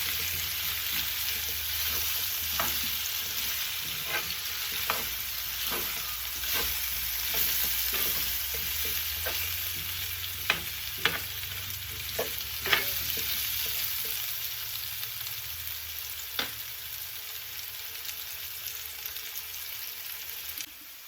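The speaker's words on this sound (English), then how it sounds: "So that once that oil is cooked out, turn together with the potato." Smothered potatoes frying in oil in a pan, a steady broadband sizzle running throughout with repeated sharp clinks and scrapes of stirring and turning, close and moderately loud, no talking.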